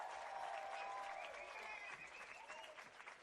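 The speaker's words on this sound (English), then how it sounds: "that's definitely a round of applause." Crowd applause at a soccer match between VGFC and Boston City FC, a steady distant wash of clapping and cheering with faint whistle-like tones riding over it, no clear talk on top.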